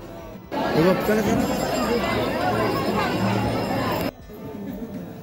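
A dense crowd of devotees at the Rameshwar chariot festival in Akeri hums with close, steady chatter and babble that cuts in suddenly and carries for several seconds before dropping away.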